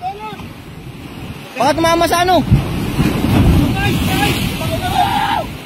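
Big sea waves wash and crash around a small fishing boat out on rough water in stormy weather, a heavy continuous surge with wind, while several people shout and talk over it.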